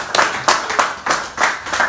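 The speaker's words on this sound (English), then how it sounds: "Can you guys clap for her?" A small group clapping during a live political broadcast, a few uneven bursts of claps rising and falling, fairly close and brief.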